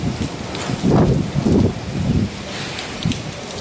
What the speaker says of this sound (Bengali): প্রচুর বৃষ্টিপাত এবং ঝড়ো বাতাস বইছে